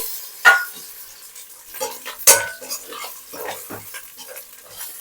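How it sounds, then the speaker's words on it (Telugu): Tomato pieces frying in a pan for a tomato coconut milk pulao, a soft sizzle broken by a spoon stirring and two sharp metal clinks against the pan, close, with no talk. "ఇది కూడా 1 నిమిషం పాటు వేగనిద్దాము. ఇప్పుడు ఒకసారి కలిపేసుకుందాము."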